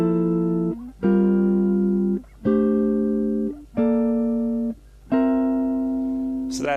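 Jazz guitar chord voicings move up the neck, about five sustained chords struck one after another with short gaps, each ringing clearly and alone.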